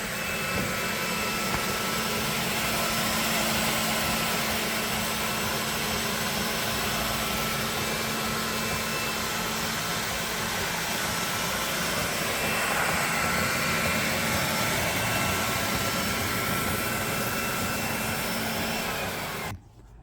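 A steady, loud mechanical whir of a Eureka E46B floor scrubber dryer runs continuously, a constant motor-and-suction drone that cuts off abruptly at the end.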